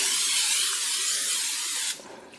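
A steady, loud aerosol hiss of cooking spray coats a pan continuously for about two seconds, then cuts off, leaving faint room noise.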